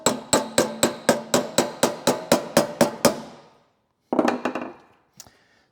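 Hammer blows knocking dents out of metal: about a dozen sharp, evenly spaced strikes in quick succession, then a short pause, a louder ringing hit with a brief scrape, and one last faint tap.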